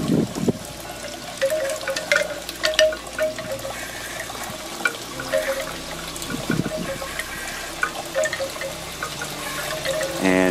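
Water from a second small waterfall in a garden patio setting runs steadily, a continuous close splashing and trickling that stays even throughout with no voices.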